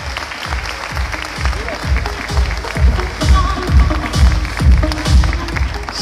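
A crowd applauds a newly judged provincial carnival queen at an outdoor event in Saladillo, loud sustained clapping rising and swelling, with a rhythmic low thumping of music or drumming beneath and voices mixed in.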